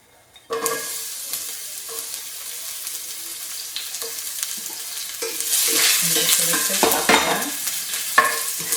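Onion hits a hot pan with oil for an Indian starter, sizzling steadily and growing louder and busier as it is stirred, with scraping clatters over the frying and no talk.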